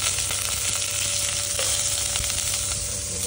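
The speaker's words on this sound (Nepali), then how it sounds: "मेथी फुराएपछि यसको लागि अलिकति प्याज राखिदिएँ" Onion dropped into hot oil with fried fenugreek seeds for a local fish curry gives a dense, constant sizzle, loud and close, with faint stirring ticks and no voices.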